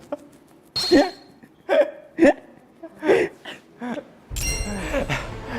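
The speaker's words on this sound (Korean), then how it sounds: "아 이거 하려니까 또 딸꾹질 나네" Repeated hiccups from a young man, about six sharp vocal jerks spaced unevenly over a few seconds, close and fairly loud, with a burst of other noise at the end.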